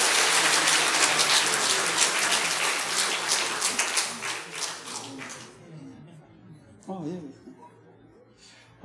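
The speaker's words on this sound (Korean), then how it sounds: "박수 부탁합니다" Audience applause at a church education department graduation ceremony, dense loud clapping that holds steady for about five seconds and then thins out and fades, with a voice speaking briefly afterward.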